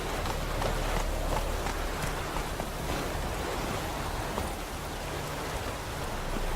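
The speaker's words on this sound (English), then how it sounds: "Starting to rain, you see it." Steady rain from The Witcher 3 fills the whole stretch with a dense, even hiss, with soft, irregular footfall-like thuds running underneath and no voices.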